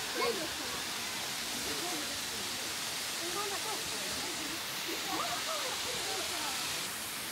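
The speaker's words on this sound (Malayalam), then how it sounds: "നമ്മുടെ ആതിരപ്പള്ളിയിലെ വെള്ളച്ചാട്ടമൊക്കെ വെച്ച് നോക്കുമ്പം ഇതൊരു ചെറിയ വാട്ടർഫോൾസ് ആണ് കേട്ടോ" Powerscourt Waterfall in Wicklow, Ireland, a small cascade, gives a steady broadband rush of falling water, moderately distant, with faint voices of people around.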